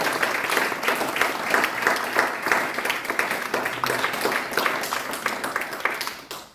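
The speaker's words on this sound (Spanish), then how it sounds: "Démosle un aplauso al que vive para siempre." A church congregation at a Sunday service applauds, a full, even burst of many hands clapping continuously at close range before fading at the end.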